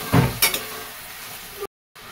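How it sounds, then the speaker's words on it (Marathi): Tomatoes sauté in a hot pan, starting with a couple of loud stirring clatters and then settling into a short, steady sizzle that ends in a sudden cutout. "हे बघा, टोमॅटो पण टाकून घेते. चांगलं परतून घ्यायचं ह्याला."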